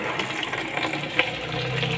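Water pours and gushes steadily, close by, with no voices, while washing a car's tires.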